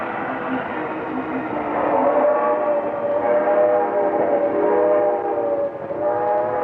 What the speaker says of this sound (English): This was a very busy yard, with many switch engines working, cars moving back and forth